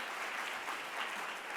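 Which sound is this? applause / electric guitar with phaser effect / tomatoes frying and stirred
applause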